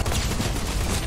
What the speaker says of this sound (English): Wait, I'm going to use my drum shotgun.